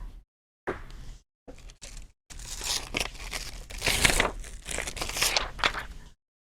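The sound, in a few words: handling a piece of foil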